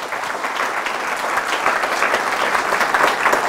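A church congregation breaks into loud applause after the reading of the Gospel, steady dense clapping for a few seconds with no voices over it.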